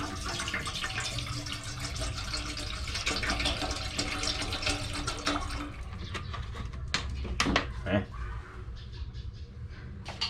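Water runs and splashes into a cooking pot for a Thai pork rib noodle curry, a continuous pouring stream that thins out toward the end with a few sharp knocks.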